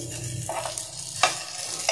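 A steamed dal-stuffed gujia sizzles softly in a hot pan as it is turned over, with a few light scraping and turning sounds from a utensil.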